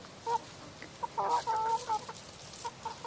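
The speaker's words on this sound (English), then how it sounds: "this is the hen, who hasn't got a name yet, but they're both duckwing" A duckwing Leghorn hen clucks in short, soft bursts on a tropical Far North Queensland homestead, a few quick broken calls close by over quiet outdoor background.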